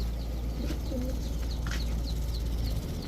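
A male giribaj pigeon gives a deep, vibrating throat coo, a low continuous rumble close by, with faint chirps from other birds over it.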